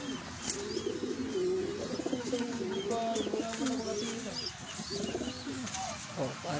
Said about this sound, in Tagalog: para sa mga nakakaalam dyan yan lang po kalapati ko.